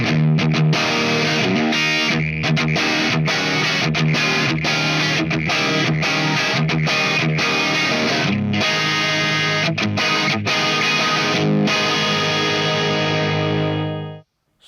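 Electric guitar played through a Marshall SC20 Studio Classic valve amp with heavy distortion, loud sustained chords with brief rhythmic gaps, ringing out alone and fading at the end.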